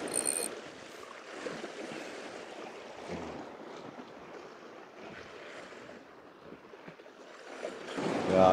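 Wind gusts over the sea during rockfish fishing from a boat, a broad steady rushing with swelling and easing gusts and lapping water, close and moderately loud with no talk.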